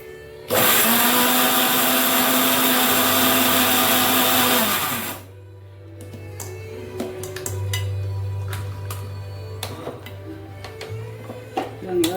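Kitchen blender grinding curry leaves into powder, a loud continuous whirring roar for about five seconds that cuts off abruptly, followed by quieter clatter and faint rustling with a low background hum.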